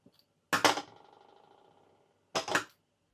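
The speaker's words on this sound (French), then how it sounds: "je garde mes ciseaux cranteurs parce que mon tissu s'effiloche beaucoup" Two crisp metallic snipping bursts of pinking shears cutting fabric, close and isolated, the first trailing into a faint ringing decay before the second cut.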